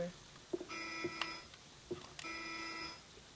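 Two bursts of a harmonic electronic telephone ring from the video game Silent Hill 2, each held about a second, with clicks and voices talking around them.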